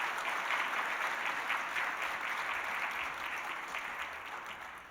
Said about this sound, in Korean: 한번 박수로 환영하겠습니다